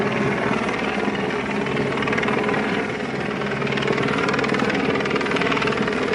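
A helicopter flies overhead at the SailGP sailing event in Plymouth, its steady rotor chop and engine drone filling the air loudly and continuously with no talk.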